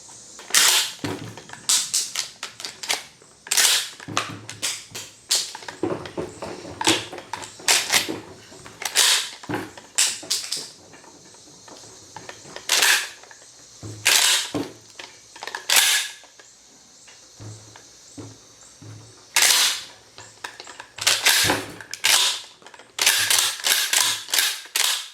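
A Gforce GF12 pump shotgun is racked repeatedly to unload, giving loud, close metallic clacks and snaps in irregular bursts, some single and some in quick pairs.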